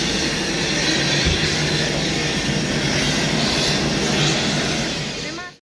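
Steady, loud jet engine roar fills the air on the apron at Delhi airport during boarding, with other aircraft parked nearby; the broadband drone holds constant before cutting off abruptly at the end.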